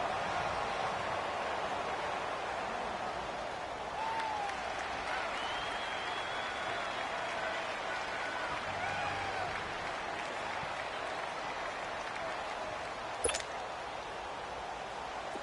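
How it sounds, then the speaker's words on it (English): A stadium crowd in a football video game cheers and applauds in a steady, distant roar that swells slightly, while a voice calls the play over it and a sharp click comes near the end. "The crowd getting into it as we come up on a big third down."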